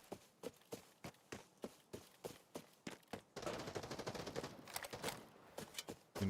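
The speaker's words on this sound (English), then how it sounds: "It sounds like a shitty SMG or something." Submachine gun fire in a video game: evenly spaced single shots at first, then a dense, rapid automatic burst, then a few more spaced shots, all fairly close and with no voices.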